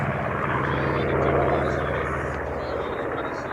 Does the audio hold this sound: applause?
no